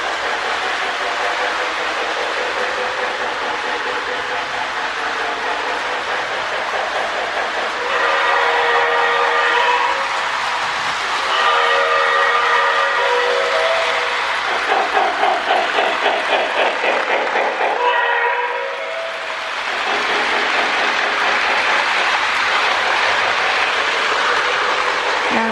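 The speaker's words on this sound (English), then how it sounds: "if you use a whistle or the bell, it turns the chuffing off for whatever reason." A Lionel model train sounds tender plays steam chuffing, then a whistle and a ringing bell that cut the chuffing out, loud and close with rhythmic pulses between the whistle blasts.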